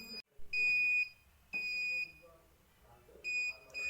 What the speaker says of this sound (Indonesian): Bunyi buzzer dan nyala lampu LED akan cepat dan indikator pada blink berwarna merah.